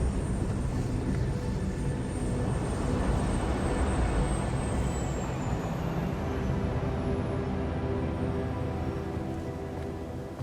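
A steady, loud airplane engine roar fills a cutscene from the game 007 First Light. The broad rumble holds evenly throughout and eases slightly near the end, with no talk over it.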